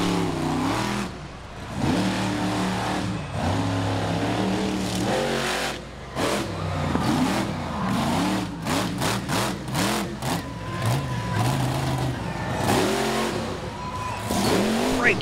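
An off-road race truck at the O'Reilly Outlaw Nationals in Miami, Oklahoma, roars and revs hard through freestyle jumps and slap wheelies, its engine pitch sweeping up and down repeatedly with brief cut-offs, loud and close.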